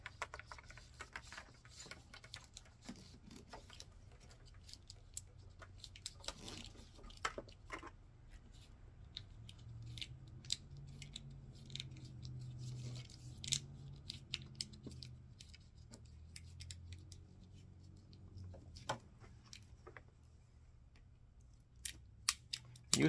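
Scissors snip through plastic wire loom while installing a car amplifier and subwoofer in a Toyota Camry, a quiet close series of irregular sharp clicks and cuts scattered over a long stretch, with no talking.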